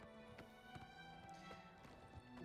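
Rhythmic horse hoofbeats thud at a steady trot over a humming musical background in the video game Oblivion Remastered, fairly quiet and continuous.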